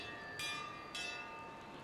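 A bell rings in the fantasy game Pillars of Eternity 2: Deadfire, two quick bright metallic strikes with a lingering ringing tone over a quiet background.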